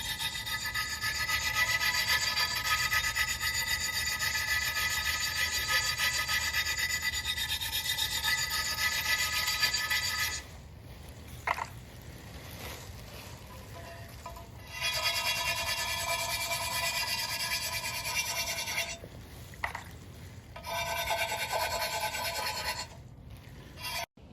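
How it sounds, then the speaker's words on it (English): Steady abrasive rubbing of hand sanding, continuous for about ten seconds, then resuming in shorter bursts separated by pauses. "I did some hand grinding or sanding"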